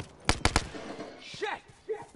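In The Last of Us, three quick sharp gunshot-like cracks come close together, followed by quieter voice sounds.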